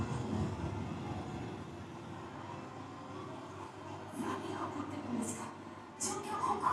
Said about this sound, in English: The helicopters are kind of cool.